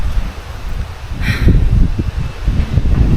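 Strong gusts of wind buffet the microphone outdoors beside laundry hung on a line, with low rumbling and rustling, sustained and loud, with a brief higher chirp partway through.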